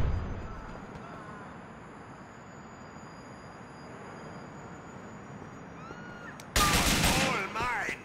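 Gunfire in the video game GTA: The Ballad of Gay Tony arrives as a sudden loud burst of rapid shots near the end, after a long stretch of quiet background game ambience.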